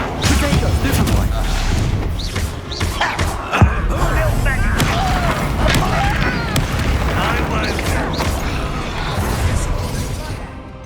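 Spell impacts in Hogwarts Legacy land as repeated booms, crashes and thuds during a magic duel, loud and layered, while a voice shouts over the combat.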